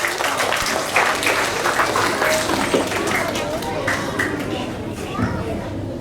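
Loud, sustained applause from a school audience at a Hindi recitation competition, dense clapping filling the whole stretch with some chatter mixed in.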